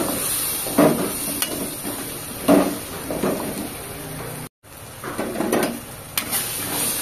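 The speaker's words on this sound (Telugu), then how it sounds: "టమాటా మనకు మెత్తగా వేగిపోయిన తర్వాత ఇలా మసాలా వేసుకొని తిప్పుకుంటూ ఉన్నాడు" Masala and tomatoes frying in a pan for sambhar make a close, steady sizzle punctuated by several sharp scrapes and clatters of a spoon stirring, with a brief gap midway.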